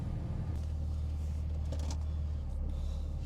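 A pickup truck drives along a road, heard from inside as a steady low engine and road rumble with faint higher tire noise and no talking.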